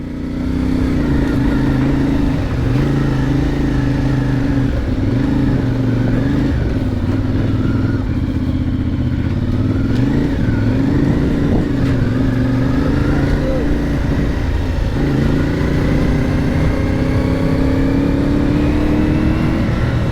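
A CF Moto 450MT motorcycle engine drones loudly and steadily while being ridden, its pitch rising and falling with throttle changes under a constant wash of wind noise.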